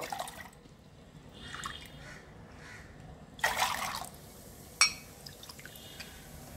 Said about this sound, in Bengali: কাশ্মীরি কাওয়া বানানোর জন্য এখানে আমি 3 কাপ জল নিচ্ছি।